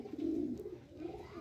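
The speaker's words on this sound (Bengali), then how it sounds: "দেখতে পাচ্ছেন কবুতর কিন্তু ডাক চলে আসছে" A flute pigeon coos once, a low soft throaty call that swells and fades over a second or so, faint against a quiet background.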